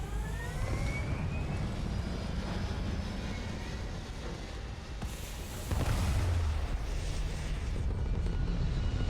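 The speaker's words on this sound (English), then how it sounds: "All thrusters firing." A spaceship's thrusters in a video game roar as a loud, continuous rumbling drone that swells into a heavier surge partway through and holds steady.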